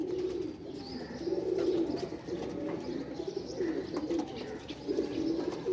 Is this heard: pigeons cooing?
yes